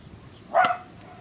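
One short, sharp dog bark rings out at middling distance over a faint, steady background, brief and alone with no voices.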